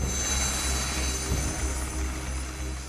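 Helicopters flying during disaster rescue operations at Dharasu, a continuous low rotor and engine roar holding steady over three seconds, no voices.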